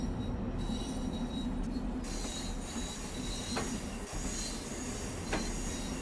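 A commuter train runs on the Harlem Line in Train Sim World 2, a steady loud rumble of rolling wheels with a constant hum, a couple of brief squeal and clank accents along the way and no talking.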